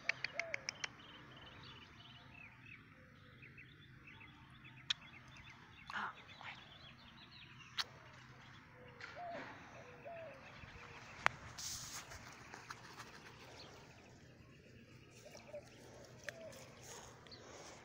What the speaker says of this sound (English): It's all just goose cuddles and goose talk.